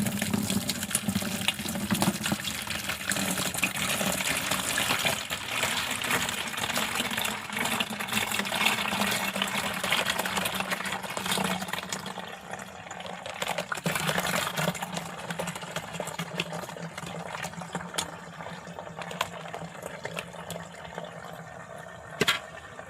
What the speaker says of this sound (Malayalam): ഇച്ചിരി ഇച്ചിരി ഒഴിച്ചു കൊടുത്ത് നമുക്കത് അരിച്ചെടുക്കണം